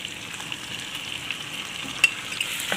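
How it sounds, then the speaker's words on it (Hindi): Yogurt going into white mutton korma in a pan gives a faint, even frying hiss with a few soft clicks, including one sharper tap near the end. "उसके बाद आपने ये दही डाल देना है"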